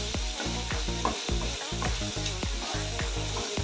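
Mutton pieces sauté in hot oil for chukka with a loud, close sizzle. Rhythmic stirring scrapes and knocks land roughly every half second, over a steady low hum.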